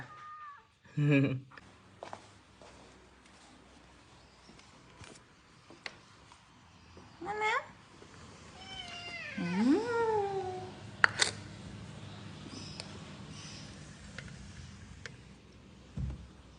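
Stray cats meow and yowl at intervals outdoors, several distinct drawn-out cries of varying pitch, close by, with gaps of quiet and some soft voice nearby.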